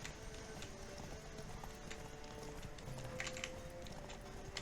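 Horse hooves galloping in The Witcher 3 video game, a soft continuous clip-clop at low level under busy game ambience and scattered effects.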